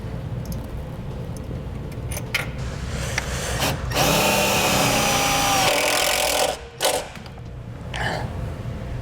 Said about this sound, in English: We'll attach that to the frame rail with self-tapping screws.